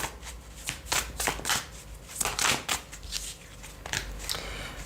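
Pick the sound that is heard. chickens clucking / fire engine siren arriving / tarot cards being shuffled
tarot cards being shuffled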